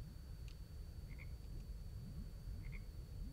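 Frogs croaking in Her Majesty's Spiffing: a steady chorus of low, rhythmic croaks repeating close together over a constant background hum, with faint higher chirps.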